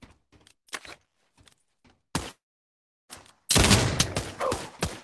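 Gunfire in the VR game Pavlov during a murder mystery match: a scatter of quiet clicks and taps, two sharp isolated shots, then a dense, loud burst of rapid fire with rattling echoes.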